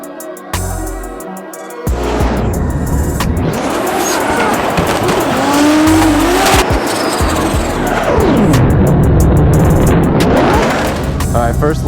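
A drift car laps a brand new track on a lead run, engine revving and rising in pitch with long tire squeals and skidding, loud and close, with occasional voices underneath.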